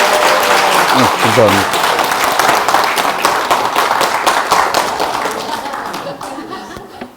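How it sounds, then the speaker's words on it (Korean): Audience applause for a pastor arriving to give a Christian coaching lecture at a church, loud and sustained for several seconds and fading toward the end, with a little laughter and someone briefly speaking. "큰 박수 보내주시겠습니다"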